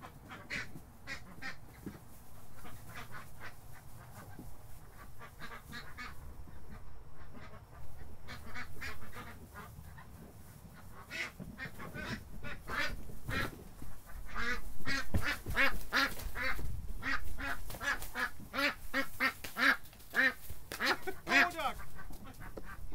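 A group of ducks quacking and honking close by, with a busy stream of overlapping calls that grows louder and denser toward the end.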